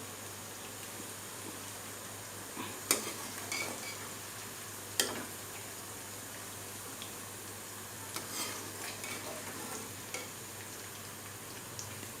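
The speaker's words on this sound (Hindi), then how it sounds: "भिंडियाँ हो गई हैं फ्राई" Okra (bhindi) fries in hot oil in a pan, a faint, steady sizzle and hiss with a few soft stirring clicks and taps scattered throughout.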